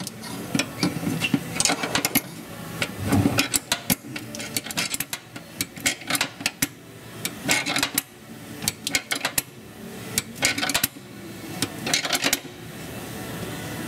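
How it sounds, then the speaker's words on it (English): Bolt being tightened into a threaded insert while relocating the evap canister on a 2012 Jeep JK: a rapid series of close metallic ratchet clicks in bursts, with brief pauses between runs and no talking. "And then we're just going to tighten this bolt down."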